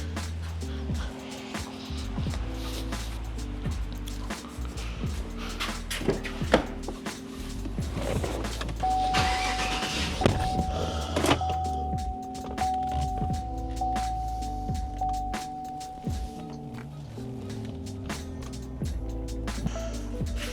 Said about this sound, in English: I'm gonna go ahead and jump in this car, take it out there.